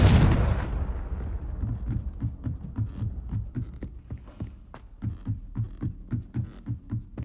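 A Confringo spell cast in Hogwarts Legacy sets off a loud fiery blast that fades out, followed by a steady, rhythmic low throbbing pulse within the game's soundscape.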